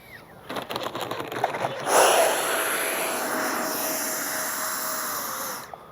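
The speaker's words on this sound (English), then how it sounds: "If you didn't know it was a model plane, you'd think it was a real thing coming in." A Freewing twin 70mm EDF AL-37 RC model jet comes in to land, its ducted fans building into a loud, steady hissing whine that holds for several seconds before cutting off.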